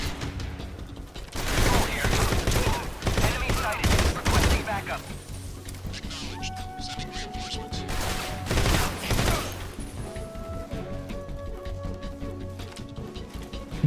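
Gunfire from the stealth action game Metal Gear Solid Delta: Snake Eater: loud, dense bursts of shots clustered in two volleys over a steady bed of game ambience and faint musical tones.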